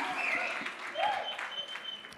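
An audience at a comedy show clapping, moderately quiet scattered applause with a brief whistle-like tone and faint voices in the background.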